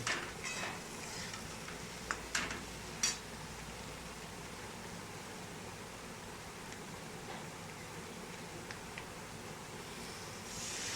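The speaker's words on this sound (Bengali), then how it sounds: "মশলাটাকে ভালো করে নাড়াচাড়া করে দিয়ে দেবো পরিমাণ মতো জল" Chilli powder, turmeric and salt masala being stirred in a pan for a hilsa-head and shrimp chorchori, a soft, continuous sizzle with occasional scraping taps of a spoon, fairly quiet throughout.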